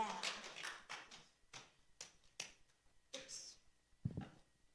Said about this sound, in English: Tap, tap, clap, clap.